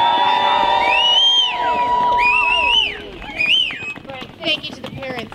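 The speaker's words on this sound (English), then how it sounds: "Can we give them one more round of applause?" A holiday concert crowd applauds a children's choir, high whoops and cheers rising over the noise at first, with scattered clapping and murmuring voices toward the end.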